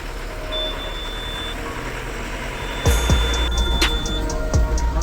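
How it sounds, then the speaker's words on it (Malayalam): A safari bus rumbles along a forest road with a steady engine drone, while thin electronic beeps sound intermittently and a couple of hard thumps or knocks jolt through partway along. "ഇതൊരു ബസ് സഫാരിയാണ് കേട്ടോ."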